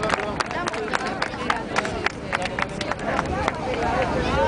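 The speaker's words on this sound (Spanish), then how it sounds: "Un aplauso para todos." A crowd at an outdoor gathering applauds, with scattered claps over a dense murmur of voices and shouting, fairly close and steady, swelling slightly toward the end.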